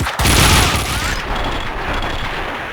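Gunfire rattles in the video game Max Payne, a loud burst of shots at the start that gives way to a dense, continuous roar of firing and booming, with no clear talk.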